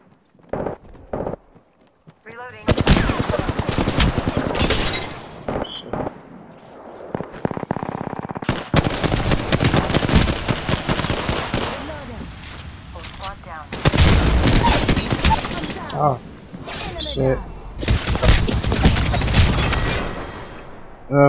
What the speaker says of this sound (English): it's kinda hard when two are shooting at the same time